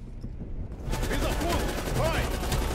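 Continuous gunfire in Call of Duty: Black Ops Cold War, a dense unbroken stream of shots that swells in after a quieter opening and stays loud throughout, with game noise around it.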